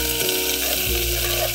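Ginger, garlic and green chili frying in hot oil, a steady, loud sizzle close up that holds evenly through the whole short stretch.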